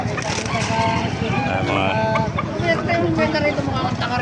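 Gamefowl hens clucking and calling in a farm yard, close and fairly loud, with someone talking over them throughout.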